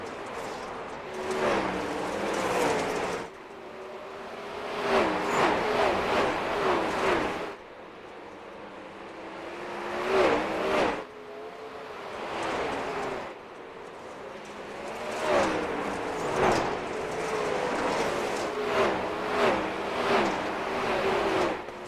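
Race cars accelerate on the track at Weedsport during a restart shootout, with engines rising and falling in repeated waves as they pass, loud and sustained with brief gaps between surges.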